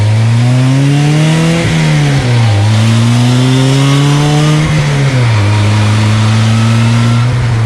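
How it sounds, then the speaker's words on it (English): A DF Goblin street-legal go-kart engine revs loud and close, its buzzing tone climbing in pitch, briefly dipping at a couple of gear changes, then climbing again. "let's go ahead and give it a little bit of gas here first"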